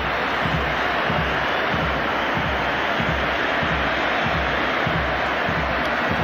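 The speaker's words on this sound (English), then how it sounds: "Time for Lionel Messi to take his own personal round of applause." A packed stadium crowd at the Argentina versus Spain international friendly of 2010 applauds Lionel Messi, a dense, steady roar of clapping and cheering that fills the whole stretch without breaks.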